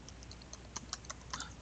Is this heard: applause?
no